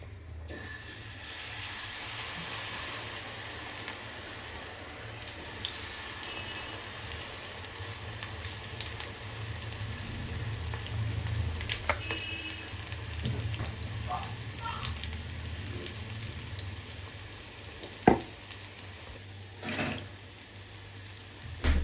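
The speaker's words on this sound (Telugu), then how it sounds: "ఆయిల్ హీట్గా ఉంది ఇప్పుడు పకోడీ వేసేస్తున్నాను" Pakoda fritters fry in hot oil, producing a steady, rain-like sizzle that stays fairly constant for the whole stretch, with faint kitchen noises and a few sharper knocks near the end.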